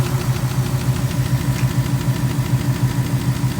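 A 2018 Ford Mustang engine idling with a steady, rapid ticking running through a low rumble, close and even for the whole stretch with no talking.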